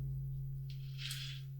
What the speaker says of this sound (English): I'm just going to take that and make that a sine wave.